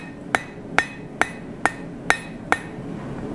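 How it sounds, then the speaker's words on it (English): Six sharp, evenly spaced ringing strikes of a hammer's peen on hot metal while forging a hook, spreading the stock from the middle outward, close and loud with steady rhythm and no talking. "I'm going to use the peen of the hammer, hammering in the middle and working out toward the edges"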